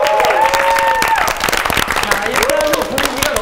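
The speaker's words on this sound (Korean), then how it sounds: "고생하는 세 명을 박수!" Studio applause for three new NCT 2018 members, a dense burst of clapping mixed with cheers and crowd noise while voices talk over it.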